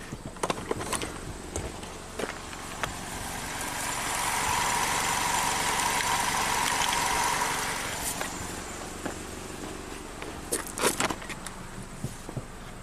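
A Chevy Malibu engine with an electric power steering fault turns over and settles into a low idle, heard close alongside jangling keys and a few clicks and knocks.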